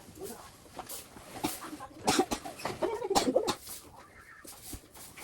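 Chickens cluck in short, irregular bursts close by, with scattered rustling and background noise throughout.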